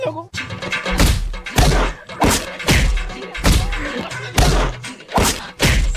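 People in a comedy skit are beaten up, a rapid series of loud, close thumps and whacks landing about every half second amid shouting voices.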